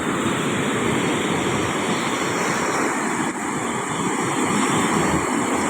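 Rough sea surf breaking steadily in stormy weather, a loud continuous wash of waves with wind noise buffeting the microphone throughout.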